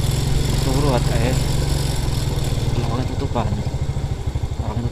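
A motorcycle engine runs steadily close by on a busy night street beside a crowded food stall, its low rumble continuous under people talking.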